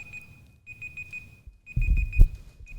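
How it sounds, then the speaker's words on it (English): A timer alarm beeps in rapid repeated bursts of a high electronic tone, close and steady, over low rumbling handling noise that swells near the end. "Apparently, I also set a timer."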